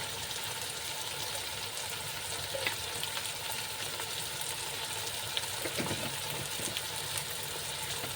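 Onions, tomatoes and ginger garlic paste fry in a pan with a steady, even sizzle and crackle throughout, with a few faint spoon scrapes and no talking.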